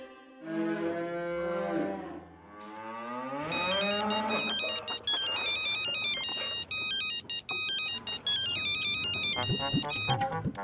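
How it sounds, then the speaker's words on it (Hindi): A telephone rings during a call, a melodic ringtone of repeating bright electronic notes that runs for several seconds after a short low musical passage. "मैं नाथा काका को फोन करता हूँ"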